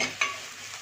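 Onion and green chillies for vermicelli upma sizzle in a hot pan, a brief close crackling hiss with one sharper pop.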